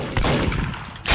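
Short burst of rapid video game gunfire from a shooter match, loud and close, a quick volley cutting off after about a second with no talk.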